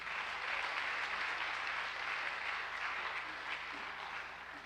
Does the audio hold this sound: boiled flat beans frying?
no